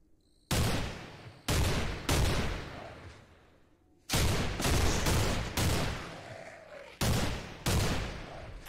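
Heavy gunfire from a big gun in the video game Cataclysm DDA: loud, booming single shots and short bursts, spaced irregularly with quiet gaps and decaying echoes between them.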